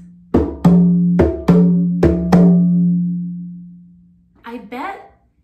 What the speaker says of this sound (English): King Lion will be played by this drum called a tubano.